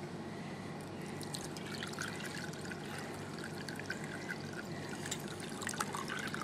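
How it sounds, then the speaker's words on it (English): Dandelion tea strained through a tea towel gives a steady, continuous trickle and pour of liquid with small drips throughout, close and fairly loud, with no talking. "I'm going to lay my tea towel back out and finish straining this."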